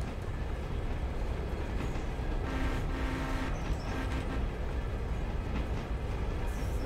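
A train rumbles past with a steady, dense roar and rattling wheel noise, fairly close and continuous, with faint brief squeals and no talking.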